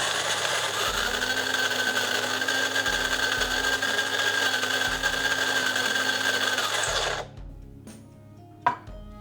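Electric coffee bean grinder set two notches above its finest espresso setting, grinding beans with a loud, steady high-pitched whine that runs continuously for about seven seconds, then cuts off, leaving quiet and a single sharp knock.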